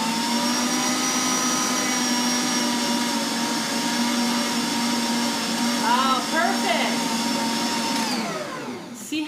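A stand mixer kneads crescent roll dough with a loud steady motor whine. Its pitch dips and wavers briefly before the motor winds down and stops.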